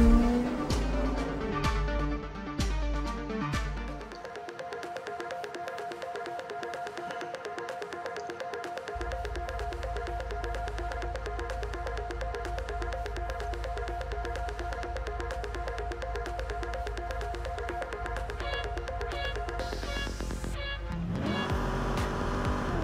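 Race cars lap Circuit of the Americas in the Real Racing Next mobile game, with engines revving up through gears and holding a steady loud whine and a brief squeal near the end.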